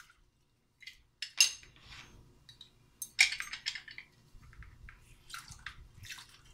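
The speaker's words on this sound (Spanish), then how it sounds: "le vamos a exprimir un limón al agua" A lemon is squeezed by hand into a container of salted water, giving a few close sharp squirts and drips with small splashes, scattered across quiet moments without speech.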